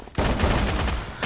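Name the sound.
gunfire in a battle royale video game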